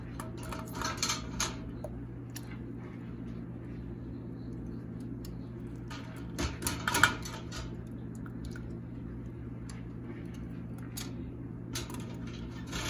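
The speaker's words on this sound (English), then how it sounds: "I'm gonna remove them from the canner." Glass pint jars of zucchini relish lifted out of a water bath canner, with scattered light clinks and knocks of glass against metal over a low steady hum, close and fairly faint, with no talking.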